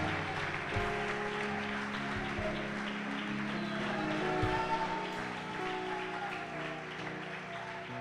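A church congregation applauds during a celebration service, a soft, continuous patter of clapping from a crowd at moderate distance, with a sustained musical tone underneath.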